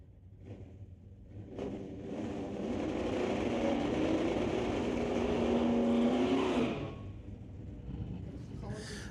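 Drag race cars at Mission Raceway Park, a 1968 Cougar and a 2018 Camaro among them, launch together in a loud sustained engine roar that builds, holds steady and then cuts off, with an announcer talking over it.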